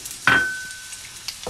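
Onions tipped into hot oil for a tinda curry, a sudden sharp sizzle that fades over about a second, with faint stirring afterward.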